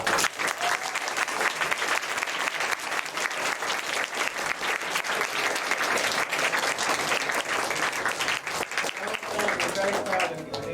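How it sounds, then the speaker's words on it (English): Loud, sustained applause from a large crowd at a student project presentation, with dense clapping continuing steadily throughout. "let's give them a massive round of applause"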